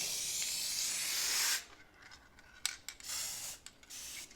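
An aerosol can hisses steadily while spray painting the inner side of a Corvair's car fender, then cuts off and follows with a few short bursts of spray and faint clicks nearby.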